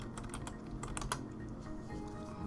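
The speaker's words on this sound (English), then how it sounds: "I was trying to figure out what you were typing." Fingers tap rapidly on a computer keyboard, a busy, irregular patter of soft clicks at moderate distance that thins out toward the end, with no voices.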